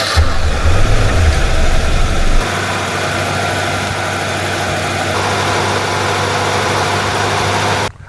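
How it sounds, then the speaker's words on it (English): A car engine runs just after a jump start from a Gooloo GT6000 jump starter, with a loud rough burst at first, then settling into a steady, close idle hum before cutting off at the end. "start your engine within 30 seconds"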